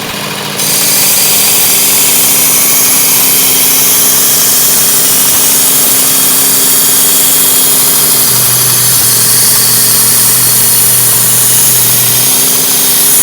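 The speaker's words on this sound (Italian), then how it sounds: "Quindi primo passaggio su un nastro abbastanza" A Work Sharp Ken Onion electric belt sharpener runs steadily on a coarse belt as a knife is passed over it, giving a loud, even motor whine and grinding hiss.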